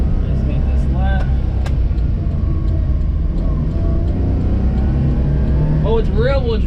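A Daihatsu kei van with a rear-wheel-drive layout on the move, its engine giving a steady, low rumbling drone from inside the cabin. Someone talks over it throughout.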